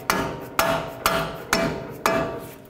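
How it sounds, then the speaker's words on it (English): Five sharp metal hammer blows at a steady half-second rhythm, each ringing briefly before the next, as strut bolts are driven through the steering knuckle of a 2007-2010 Chrysler Sebring front strut assembly. "You can drive them in with your hammer or rubber mallet,"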